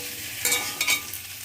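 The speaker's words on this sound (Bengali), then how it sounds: "এবার এই মশলাটাকেও একটু কষিয়ে নেব।" Spice paste with turmeric being stirred and fried in a pan for a vegetarian taro curry, soft sizzling with a couple of short scraping stirs close by, no voices.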